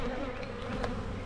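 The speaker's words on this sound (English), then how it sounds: "They look like they have a decent amount of bees in here" Honey bees buzz around an open beehive during a mid-April hive inspection, a dense, close, continuous hum with no talk.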